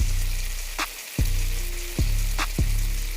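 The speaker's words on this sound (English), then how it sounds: "it's very important that you don't touch the steak while it's searing" Steak searing in a pan with mashed garlic, a loud close sizzle that runs unbroken, with a few soft knocks and bubbling pops over it.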